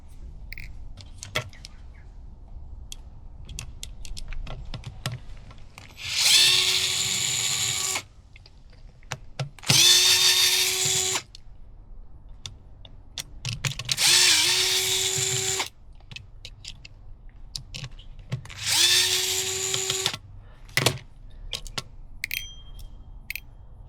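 A cordless drill or screwdriver whirs in four separate bursts of a few seconds each, backing screws out of the latch strip on a PVC external door, with faint clicks and handling noise in the quiet gaps between.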